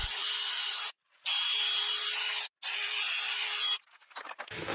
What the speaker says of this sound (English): and we pre-drill the holes